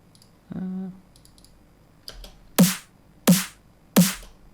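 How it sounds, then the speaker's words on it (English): Drum and bass snare, uncompressed, struck three times in the second half with sharp bright cracks and short tails, preceded by a low tonal thump and a few softer ticks. "Let's give it actually a listen without the compression here"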